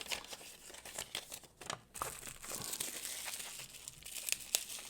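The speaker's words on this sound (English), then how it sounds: "Let's get the tape off of this." Tape is peeled and pulled off a Spyderco knife package wrapped in bubble wrap, giving close crinkling, tearing and rustling bursts that continue without talk.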